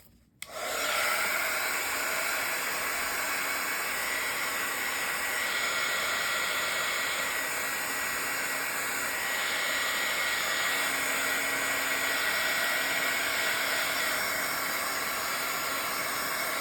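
A heat tool or blow dryer drying a painted Bible journal page, with a steady close whoosh of blowing air that switches on abruptly and runs continuously, no speech.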